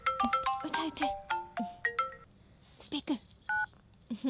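A phone plays a bright electronic ringtone in short repeated melodic beeps at moderate volume, with pauses between bursts and some voices speaking nearby.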